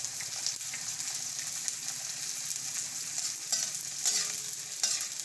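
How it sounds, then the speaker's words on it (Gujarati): Edible gum pieces frying and sizzling in hot ghee, a steady bright crackle with occasional stirring scrapes and pops, close up and without talk. "તો થોડો નાખીને બે વાર આપણે તળી લઈશું"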